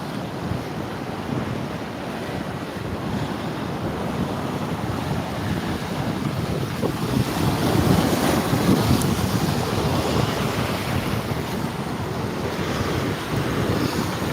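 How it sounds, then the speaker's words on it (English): Surf rolling onto a swimming beach near a river mouth, a steady broadband wash of breaking waves mixed with wind buffeting the microphone, fairly loud and continuous with gentle swells in intensity and no talking. "So this is like the swimming beach or surf beach in here."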